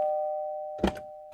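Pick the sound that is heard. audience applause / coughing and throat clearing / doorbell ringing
doorbell ringing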